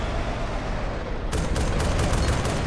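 Bursts of gunfire aimed at a tank in Arma 2, starting after a stretch of rumbling noise and continuing as rapid repeated shots to the end.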